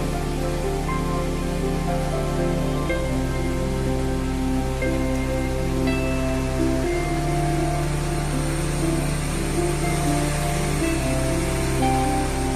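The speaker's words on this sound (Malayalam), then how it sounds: "ഈ വെള്ളച്ചാട്ടം എത്ര മനോഹരമാണ് എന്ന് നിങ്ങൾക്ക് കാണാൻ സാധിക്കും." Aruvikuzhi waterfall rushes in a loud, unbroken roar of falling water, close and constant throughout, with a steady tonal drone running underneath.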